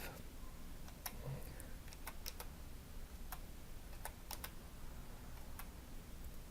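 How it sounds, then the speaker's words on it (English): Someone types numbers into a spreadsheet on a computer keyboard, producing sparse, light key clicks in irregular bursts over a faint steady background hiss, with no talking. "Now I'm just going to type the data in manually."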